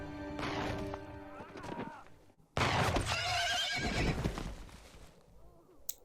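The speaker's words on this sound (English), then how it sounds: "Oh god, what a horse." A horse neighs loudly in a scene from the Firefly TV series, a long shrill whinny. A second burst of whinnying follows over hoofbeats and crashing action sounds.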